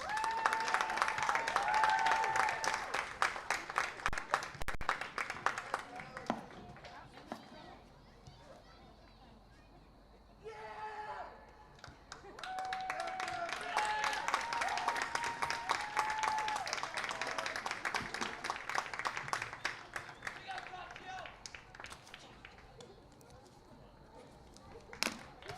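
Spectators clap for the seniors at a boys' high school soccer game, Taunton versus Attleboro, in two long bursts of scattered outdoor applause separated by a quieter gap, with children's voices and chatter mixed in.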